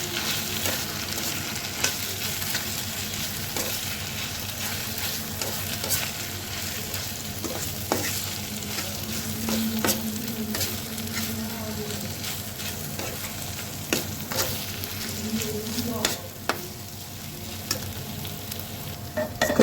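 Chicken and potato mixture being stirred in a pan, a low steady frying sizzle with repeated soft scrapes and occasional sharper knocks of the spoon at close range.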